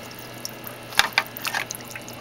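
A pump running on low in an upflow algae scrubber test tank, giving a low steady hum under faint trickling water with a few scattered drips and splashes, quiet and close.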